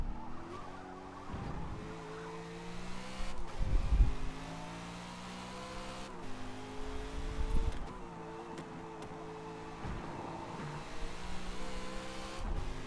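A Porsche race car in a racing video game, its engine revving up and dropping through repeated gear shifts, with tires squealing and skidding at moments, steady and close throughout, and no talking.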